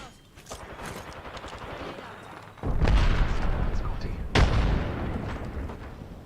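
In a video game, a grenade goes off with a heavy boom, followed by a second blast a couple of seconds later, both standing out over scattered gunfire and a rumbling battle background.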